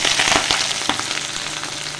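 Hot oil sizzles steadily in a wok (kadai) as fenugreek greens are about to be fried, a dense crackling hiss running throughout with a few sharper pops near the start, close and fairly loud, no talking.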